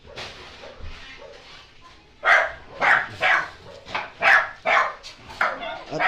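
Several dogs waiting to be fed bark in a burst of about eight sharp, close barks in the second half, after a quieter stretch of low whimpering and background noise.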